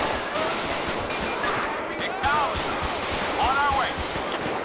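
Bursts of gunfire from a GTA 5 highway patrol shootout ring out in short repeated volleys over a busy game soundscape, with voices and siren-like wails mixed in.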